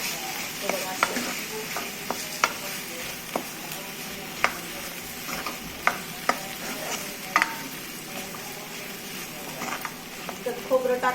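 A spoon stirs ridge gourd and chana dal curry in a pan, with a steady sizzle broken by scattered clicks and scrapes against the metal. A soft voice can be heard faintly now and then.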